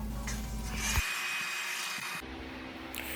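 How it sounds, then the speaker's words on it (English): A steady, loud whooshing blast of air from a hair dryer, its pitch and strength shifting a couple of times as it runs. "I'm going to then use my hair dryer to dry it"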